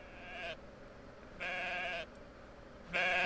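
Sheep bleating in three separate drawn-out calls with short pauses between them, close and clear with no talk.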